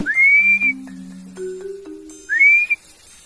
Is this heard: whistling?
yes